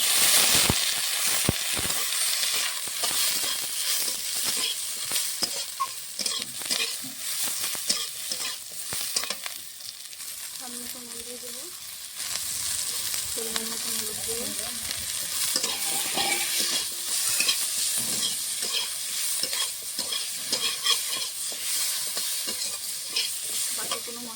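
Onion and garlic fry with fish in a pan for a Bengali bata fish curry, a steady loud sizzle broken by frequent scraping stirs and clattering spatula strokes.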